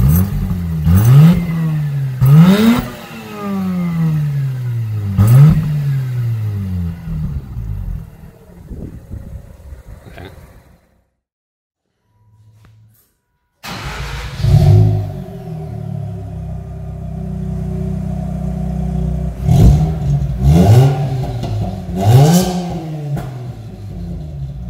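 A Mazda RX8 rotary engine, warm and revved high to around 7,000 rpm, snaps up repeatedly in sharp rising sweeps and drops back, loud and close, with a quiet gap midway before the revving resumes.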